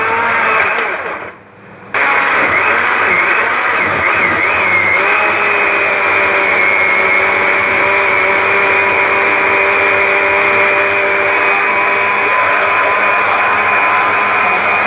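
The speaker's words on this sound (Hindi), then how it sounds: "आराम से ब्लेंड हो रहा है, बहुत ही स्मूथ पेस्ट है।" An electric blender whirs loudly and steadily while blending a smooth gravy paste, a close continuous motor drone with a brief dip near the start before settling into an even hum.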